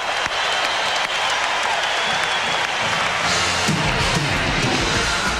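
A packed college basketball arena crowd at a 1996 Purdue Boilermakers game cheers and applauds in a loud, continuous roar that swells near the end.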